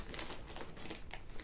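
Crinkly wrapping crackles continuously and close by as a Temu diamond-painting parcel is torn open, with busy rustling and crumpling throughout the short moment.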